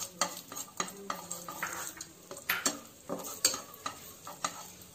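Raisins and cashews frying in ghee in a pan for bread halwa, with a spoon stirring and scraping in a quick, repeated rhythm over a soft sizzle, close and fairly quiet.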